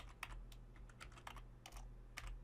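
Quiet typing on a computer keyboard, a steady run of light key clicks coming in small bursts with no one talking.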